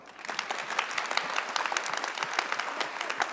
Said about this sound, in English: So one more round of applause for Maya.